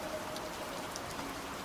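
Steady rain falling, a continuous soft hiss with scattered light drops pattering on a surface, fairly quiet and even throughout, no voices.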